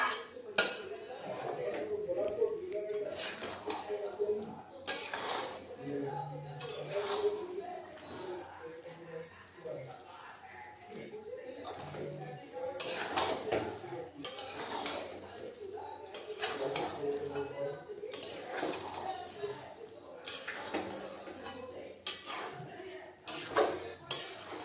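A spoon scrapes and clinks against a metal pot in steady repeated strokes, stirring ghugni peas with spices, close and fairly loud with no voice over it.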